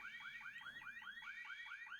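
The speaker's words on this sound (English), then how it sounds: "How do I get this burglar alarm to turn off?" A burglar alarm goes off inside The Sims video game, a close, steady electronic siren of rapidly repeating rising chirps in an even, fast rhythm, playing alone without voices.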